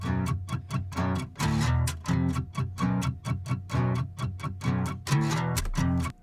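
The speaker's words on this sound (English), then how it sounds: "That's just me palm muting on a drop D guitar." Two layered acoustic guitar tracks palm-muted in drop D and pitch-shifted down, giving tight, chugging rhythmic bursts of thick low notes, played steadily and close up with no voices.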